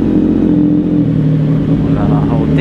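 A CFMOTO 675NK motorcycle fitted with a Tony version 1 muffler runs with a steady, loud, low engine drone that holds even with no sharp rev peaks, close by.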